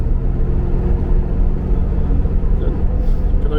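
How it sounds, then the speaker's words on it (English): Reliant Scimitar car on the road, a steady low engine rumble from inside the cabin with a loud, continuous drone that shifts slightly as gears change, with no talking. "changing gear nice and fat"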